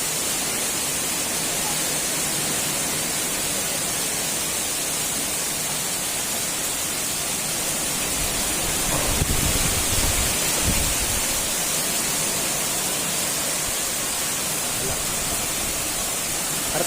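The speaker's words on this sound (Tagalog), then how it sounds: "Malakas ang ulan." Heavy rain pours steadily as a dense, even hiss that fills the whole stretch, with a brief low rumble of handling noise partway through.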